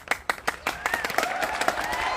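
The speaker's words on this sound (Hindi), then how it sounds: "जोरदार ताली।" Audience at a rural Awadhi-language comic poetry gathering breaks into a burst of clapping, sharp individual claps at first, then thickening into steady applause with faint voices mixed in.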